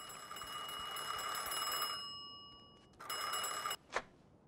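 A telephone rings in the Mafia II video game, sounding as a clear, steady electronic bell tone that stops briefly and then resumes, with no voices over it.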